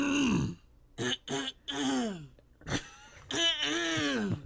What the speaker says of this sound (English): Now, start by clearing your throat.